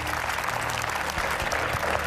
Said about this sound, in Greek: δώστε ένα χειροκρότημα και για τον Γιώργο